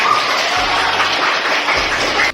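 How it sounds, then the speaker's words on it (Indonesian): Students in a classroom applaud a presenting group, a steady wash of clapping that runs the whole time and cuts off abruptly at the end. "Tepuk tangan"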